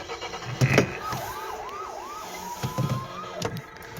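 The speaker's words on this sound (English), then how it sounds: "it makes police noises, the lights light up" A thin, electronic wailing siren from a children's ride-on toy police truck rises and falls in a few quick cycles, then holds a steady tone, with some handling clicks and light background noise.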